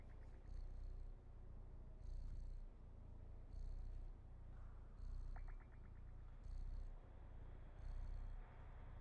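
A cat purrs in the video game Stray, a steady rumbling purr that swells in regular pulses about every second and a half, close and fairly quiet, with no talking.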